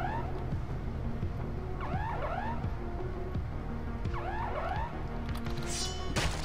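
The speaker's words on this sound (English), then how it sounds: "Oh, he's hit the alarm." Alarm in Far Cry 3 Blood Dragon, sounding as repeated rising warbling wails in short bursts over a steady game backdrop, fairly loud, with a brief bright burst near the end.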